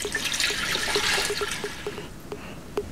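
Water pours steadily into a pressure cooker holding beef bones and brisket, a continuous splashing rush that tapers off into scattered drips and small clinks near the end.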